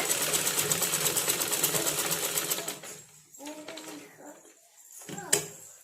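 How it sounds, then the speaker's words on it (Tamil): A sewing machine stitches a saree fall in a steady, rapid mechanical whir that stops partway through, followed by a few short bursts of stitching while someone talks over it. "திருப்புற இடத்துல கெட்டி தையல் போட்டு ஸ்டார்ட் பண்ணுங்க"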